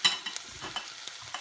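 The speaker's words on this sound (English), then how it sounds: "I'm frying up one onion, which I've roughly chopped up, and 3 rashers of streaky bacon" Roughly chopped onion and streaky bacon rashers fry quietly in a pan, a soft sizzle with light stirring scrapes and small pops, faint and close, without any talking.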